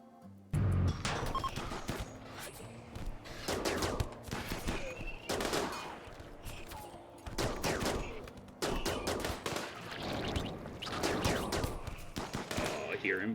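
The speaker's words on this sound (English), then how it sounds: "I do hear charge weapon going off." Charge weapon gunfire in RimWorld crackles in dense, repeated bursts across the whole stretch, with brief gaps between volleys, loud and close, while people talk over it.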